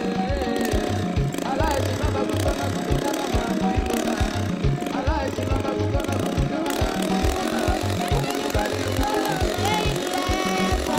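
A chainsaw runs steadily while felling a tree, a loud, rough buzzing engine with a choppy, pulsing rhythm that carries on without a break for several seconds.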